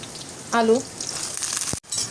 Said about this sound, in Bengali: এখন আমরা পেঁয়াজ দিচ্ছি।